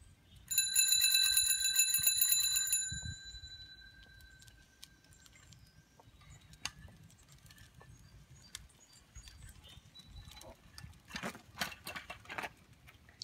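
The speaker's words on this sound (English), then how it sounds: "How's the bell go?" A bicycle bell rings in a quick rapid trill for about two seconds, bright and close, followed by quiet outdoor rustling and a few light clicks and taps.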